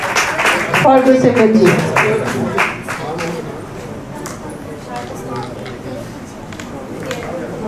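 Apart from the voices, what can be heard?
audience applause at an award ceremony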